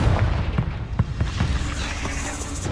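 Fiery Confringo spell blasts in the game Hogwarts Legacy, a quick run of sharp booming bursts going off one after another over a rumbling low bed of combat noise.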